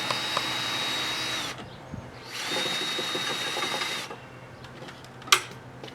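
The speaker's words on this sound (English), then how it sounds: "I have to use a flathead screwdriver to pry off the caps and a drill." A power drill whines in two sustained bursts while backing screws out of wood panels on a dog house, with a pause between runs and a sharp knock afterward.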